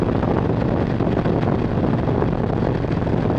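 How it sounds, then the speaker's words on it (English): Strong side wind buffets a motorcycle microphone on a highway ride, giving a continuous, loud, dense roar with steady low rumble and no pauses or voices. "Got a decent amount of side wind"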